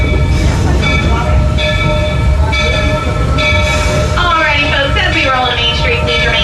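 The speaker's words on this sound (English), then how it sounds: "Please remain fully seated until the train comes to a full and complete stop." The Main Street train at Magic Kingdom rolls along with a steady rumble and clatter of wheels on track. Faint whistle-like tones ride above it, and a voice makes an announcement throughout.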